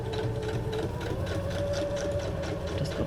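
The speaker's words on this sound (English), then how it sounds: "See what kind of strange stitching I got going on here." A sewing machine stitches across a junk journal page with a steady, close, rapid mechanical whirr that runs without a break, and nobody speaks.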